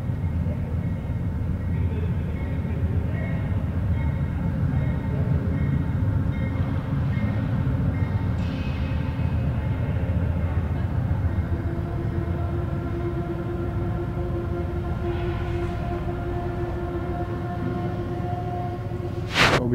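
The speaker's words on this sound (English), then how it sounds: "Train 67 arriving at Main Street Station" Eastbound passenger train 67, led by locomotive 25, pulling into Main Street Station three hours late: a steady loud rumble of rolling cars and engine throughout, with sustained horn-like tones emerging toward the end.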